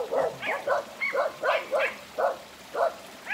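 Several dogs bark in quick, repeated bursts nearby at something on the road, yips overlapping in an uneven rhythm with short pauses between them.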